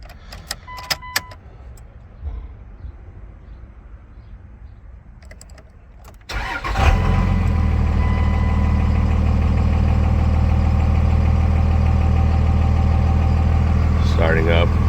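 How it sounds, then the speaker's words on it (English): A 1999 Dodge Ram 3500 Cummins diesel dually cold-starts after a quiet stretch, then settles into a loud, steady, rumbling idle heard close up for the rest of the clip. "this 1999 Dodge Ram 3500 dually and a cold start"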